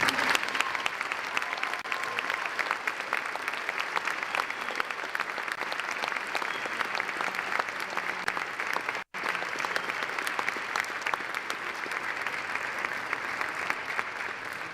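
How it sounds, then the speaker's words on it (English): Audience at a high school academic awards ceremony applauding, dense steady clapping that carries on loudly without letup, with only a momentary break partway through. "And yes, it is okay to applaud."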